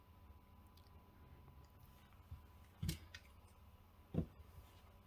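Two sharp snips of wire cutters slicing through wires one at a time while fitting an XT60 connector to an HPI Firestorm RC car, each cut a short, close click separated by a quiet pause.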